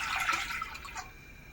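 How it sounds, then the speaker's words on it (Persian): Water poured from two glasses into a cooking pot for making apple jam, a brief splashing, trickling burst that fades after about a second, close and moderately quiet with no talking. "2 لیوان آبمون رو میریزیم."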